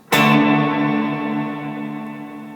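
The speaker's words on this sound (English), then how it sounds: "So the decay, man, you can get a really long reverb using this." A single struck guitar chord rings out through a long, washy reverb from a TC Electronic Hall of Fame reverb pedal with long decay, sustaining and slowly fading over a couple of seconds, loud and alone.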